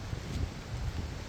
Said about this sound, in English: A little cool, very, very windy, very windy.